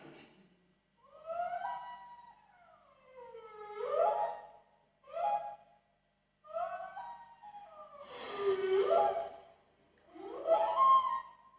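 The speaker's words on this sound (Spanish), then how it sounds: "Eso que escucháis es el canto de la ballena." A recording of whale song: long, moaning calls that sweep up and down in pitch, in separate phrases with quiet gaps between them, clear and alone.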